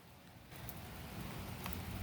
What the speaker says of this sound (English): It's raining in Florida.